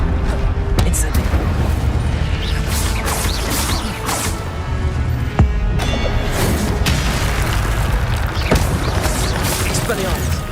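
An Incendio fire spell cast in Hogwarts Legacy, a burst of flame among dense, loud combat effects with booms, crashes and clanks running throughout, layered with speech.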